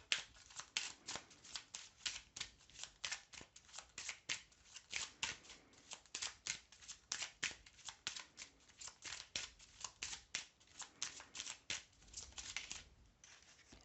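A deck of tarot cards being shuffled over and over, a steady run of crisp riffling flutters and soft slaps, close and fairly quiet, with no voices.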